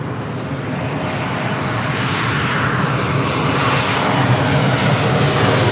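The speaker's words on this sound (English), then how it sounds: "Southwest Airlines 360 coming in from Reno on a 737-800" A Southwest Airlines Boeing 737-800 arriving from Reno comes in to land at LAX, its engines a steady, loud broadband roar that builds slightly throughout, with no talk over it.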